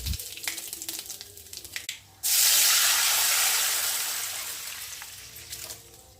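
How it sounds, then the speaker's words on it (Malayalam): Coconut chutney mixture poured into hot tempering oil over medium heat: after a few quiet clinks, a sudden loud sizzle bursts in and slowly fades as it keeps hissing. "തയ്യാറാക്കി വച്ചിട്ടുള്ള ചമ്മന്തിക്കൂട്ട് ഇതിലേക്ക് ഒഴിച്ചു കൊടുക്കുക"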